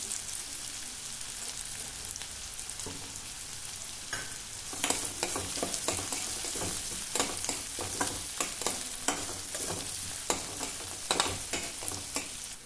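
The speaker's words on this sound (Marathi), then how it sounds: "एक बारीक चिरलेला कांदा यामध्ये घालायचा आहे। परतून घेऊया।" Finely chopped onion sautéing in a pan for a Maharashtrian masala bhindi dish, a steady close sizzle with bursts of scraping and stirring clicks from about five seconds on, no voices.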